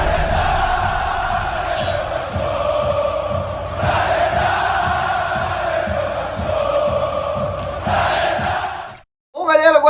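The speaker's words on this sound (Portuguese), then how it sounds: "Eu vou chamar a vinheta e após a vinheta a gente vai discutir um pouco todas essas situações" Intro vignette for a football channel covering Vasco: a loud, dense stadium-style crowd chant with sustained tonal swells runs almost the whole time, then cuts off abruptly into a short silence before a brief, different burst of sound.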